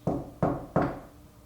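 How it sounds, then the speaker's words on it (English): Three sharp knocks on a hard surface in an evening séance-style ghost hunt at Pearl Street, evenly spaced about a third of a second apart, each fading quickly, with no talk. "make a sound for us, like a knock, like this?"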